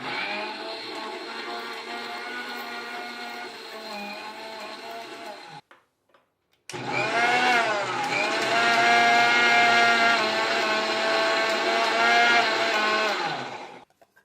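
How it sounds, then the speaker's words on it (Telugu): A mixer grinder blends mango leaves with water, its motor whine loud and steady, cutting out briefly midway before restarting and running on strongly. "కొంచెం మిక్సీ చేసి వాటర్ యాడ్ చేద్దామా?"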